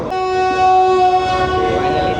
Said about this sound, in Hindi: 6:13 पर पहला डिपार्चर विसल हो गया GEU 40 का, और रवानगी के लिए तैयार तेज़गाम।